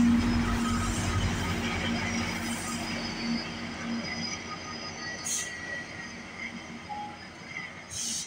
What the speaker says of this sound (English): He is a long GO train. It's 12 cars.